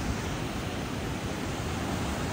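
Fast-flowing water rushes over a waterfall in Gwalior, a dense, constant roar with no pauses, close and fairly loud, with no voices over it.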